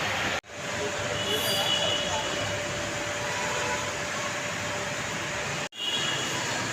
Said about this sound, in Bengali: দেখা যাক কতক্ষণে মেট্রোটা যায়